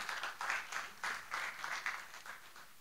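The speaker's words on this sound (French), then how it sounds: "Il mérite plus d'applaudissements." Faint, distant applause from an audience at the launch of a special magazine for the 12th Panafrican Corporates Awards swells and dips in uneven waves, with no voices over it.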